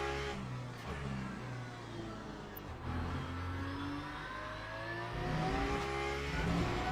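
A Mustang race car engine in Le Mans Ultimate at Silverstone roars loud and continuous, with climbing and falling engine pitch as it passes and accelerates, running throughout without any voices.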